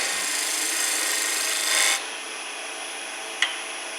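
A skew chisel cuts into a wood spindle turning on a lathe, giving a continuous close, bright rasping shave that stops suddenly, followed by a faint whir and one short tap, with no voices.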